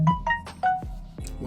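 A mobile phone rings indoors with a short melodic ringtone, a rapid run of tonal beeps with distinct pitched notes, fairly close and alone, not on silent.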